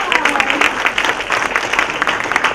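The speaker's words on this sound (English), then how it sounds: "give yourselves a huge round of applause" Audience at a Toastmasters convention clapping for themselves, a brief burst of steady, fairly loud applause with a voice faintly beneath.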